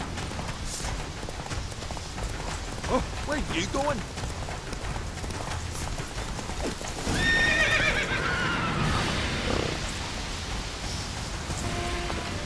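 Roach, a horse in The Witcher 3, neighs and whinnies with clip-clopping hooves at a gallop over a rainy backdrop, while voices talk briefly over the action.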